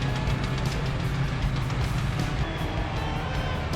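Motorized concrete buggies running together at a 1 a.m. pumpless slab pour for a 17,000 sq ft grocery store, giving a steady, loud, continuous engine drone with a low rumble and no talking.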